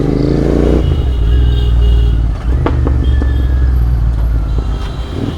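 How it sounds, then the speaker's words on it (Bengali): Royal Enfield Red Rooster motorcycle engine running on a rainy road trip from Kolkata toward Tarapith, a steady loud low rumble with rattling clatter throughout, close up and without speech. "বাবা, কি আওয়াজ হচ্ছে রেড রুস্টারের"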